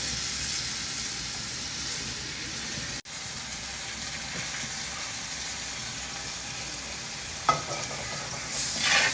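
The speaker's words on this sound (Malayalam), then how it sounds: "അപ്പം നമുക്ക് ഈ ഇറച്ചി ഈ കൂട്ടിലോട്ട് ഇടാം." Beef pieces dropped into masala in a clay pot for buffalo curry, sizzling steadily with a broad hiss, a brief break near three seconds and a sharp clatter of stirring late on, close and alone without talk.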